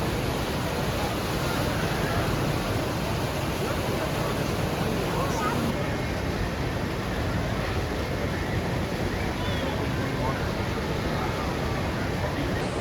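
Loud, steady rush of churning, splashing water on the Raging Rapids river raft ride at Kennywood amusement park, a dense roar that holds evenly for the whole stretch with no talking.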